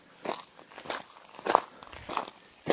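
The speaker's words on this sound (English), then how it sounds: "You can hear it crunching. This is all lava rock right here." Several crunching footsteps on loose lava rock, close and evenly paced, roughly one every half second, with no talking.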